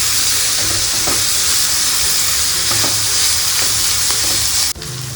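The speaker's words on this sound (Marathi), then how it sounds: "कांद्याबरोबर छान परतून घेऊ." Chopped onion, green chili and grated ginger sauté in a hot pan with a loud, steady sizzle, stirred now and then, before the frying hiss drops suddenly near the end.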